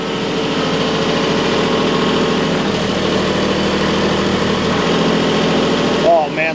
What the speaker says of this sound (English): Oh man, that diesel.